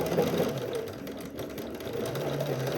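A sewing machine runs steadily, stitching a seam on a shirt, its motor whirring close and continuous without pause or any voice.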